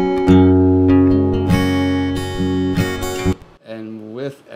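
Dry, unprocessed acoustic guitar recorded into Logic Pro, with strummed chords ringing for a few seconds before a short, quieter picked phrase; close and alone with no talking.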